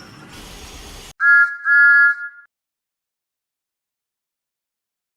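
A steam engine whistle sounds twice in quick succession, loud and clear, after a short hissy noise; then silence follows.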